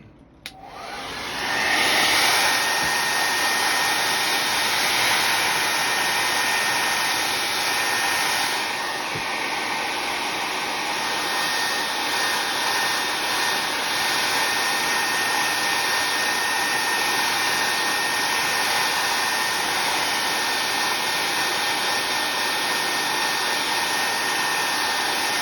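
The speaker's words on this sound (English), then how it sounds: "I dry that with the hair dryer." A hair dryer switches on and runs steadily at close range to dry a garden craft, a loud constant whooshing whine with a high motor tone that barely changes, with no talk.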